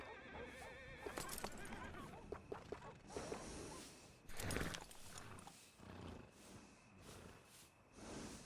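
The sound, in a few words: horse neighing in video game Red Dead Redemption 2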